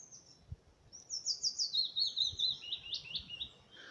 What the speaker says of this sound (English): Willow warbler and chiffchaff as well.